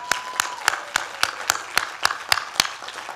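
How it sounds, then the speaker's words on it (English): At a 2021 executive programs commencement, a sparse round of clapping plays as about ten crisp, evenly spaced claps that stand apart clearly against a quiet background. "Let's clap for her."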